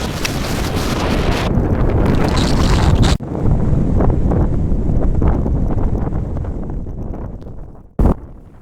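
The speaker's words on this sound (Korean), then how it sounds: "바람소리 들려드리기 위해 볼륨을 원래대로 올리도록 하겠습니다" Loud, roaring wind buffeting the microphone in constant gusts on the summit of Hallasan mountain, South Korea, then easing into a softer rush before one brief burst near the end.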